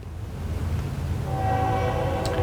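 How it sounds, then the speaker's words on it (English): A train rumbles past, its low, steady roar building before a sustained horn blast joins in partway through, loud and fairly close with no talking. "Train's coming."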